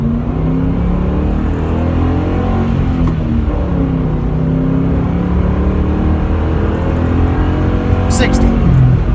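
A 2006 Ford Mustang GT convertible's V8 engine drones and climbs in pitch as it accelerates steadily onto a highway, heard from inside the cabin, with a brief sharp noise near the end.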